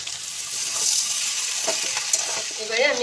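Soybean chunks stir-fry with sauce in a hot pan, a close crackling sizzle broken by several quick stirring scrapes over a few seconds.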